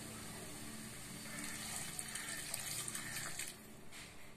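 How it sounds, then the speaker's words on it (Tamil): Water runs steadily into a pan of dried fish curry masala, a continuous splashing pour lasting several seconds before easing off at the end. "இப்ப இது சேர்த்துட்டு தண்ணி சேர்த்துக்கலாம்."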